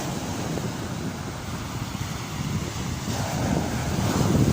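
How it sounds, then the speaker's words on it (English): Sea surf breaks and washes on a Great Yarmouth beach in North Norfolk, heard as a steady broad roar of waves mixed with wind buffeting the microphone, building slightly louder toward the end with no voices. "So where the waves are going, pushing right to left as well."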